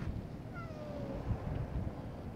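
A stray cat at an apartment playground on a cold winter day gives a single faint, drawn-out meow, half buried in steady outdoor wind noise.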